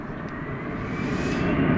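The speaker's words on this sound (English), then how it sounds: "Right after Laird, 18 left, clear for takeoff, Envoy 4299." An Envoy airliner rolls for takeoff on runway 18 left at DFW at night, its engines a broad, steady roar that builds slightly, heard from a distance without speech.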